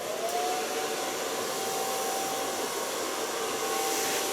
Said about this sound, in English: start blow drying.